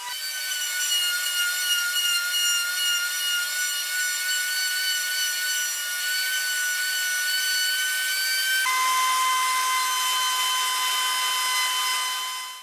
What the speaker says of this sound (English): I turn the wooden rod continuously while I push it little by little against the router bit